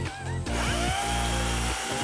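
A DeWALT FLEXVOLT 60V 16-inch electric chainsaw runs with a steady, close, loud motor whine whose pitch dips and climbs several times as it revs, with no talking.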